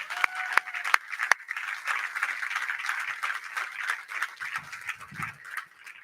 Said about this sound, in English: Can we give a round of applause for all our employees?